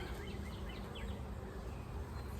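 Honey bees at an open hive, fed on fondant, make a steady, close buzzing hum that runs without a break, with no voices.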